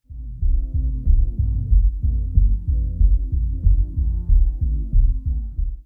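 A music mix is filtered down to its sub-bass range, roughly 20 to 60 Hz, so only deep, loud throbbing low tones pulse steadily in rhythm, with no voice present.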